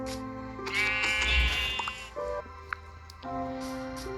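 A Minecraft sheep bleats in a wavering, drawn-out cry, with tonal game music holding steady underneath throughout.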